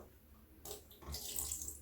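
Dye liquid pours into a bucket holding a flipped-over thrift garment, a close splashing stream that starts partway through and keeps running steadily to the end, with no talking.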